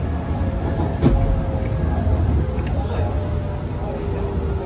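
A Hanshin Jet Car electric commuter train on the Hanshin Main Line hums and rumbles steadily with rising motor tones, recorded from on board, with a brief click early on.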